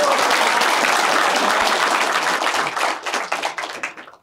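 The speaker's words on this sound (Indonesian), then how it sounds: "Boleh dong kasih tepuk tangan." Audience applause at a youth ideas event, loud close clapping from a crowd that holds steady and then breaks into scattered claps as it fades out.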